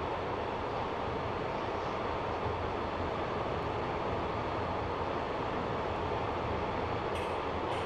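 A Class 142 diesel train runs in the Train Sim 2020 game on the Caldicot to Cardiff route, giving a steady, loud engine drone and rumble that holds unchanged throughout.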